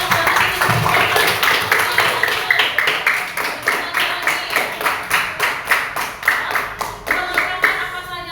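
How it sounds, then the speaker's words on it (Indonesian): A class of schoolchildren claps their hands together in a steady, rhythmic burst of many hands, loud and close, continuing for several seconds. "Boleh tepuk tangan dulu"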